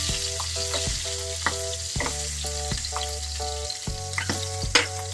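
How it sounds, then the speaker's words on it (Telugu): Stuffed capsicum fries in a pan with a loud, steady sizzle and crackle. Repeated clinks and scrapes come as the peppers are turned, with musical tones playing in the background and no voices. "మళ్ళీ తిప్పుకోండి, అప్పుడు అన్ని వైపులా కాలుతుంది"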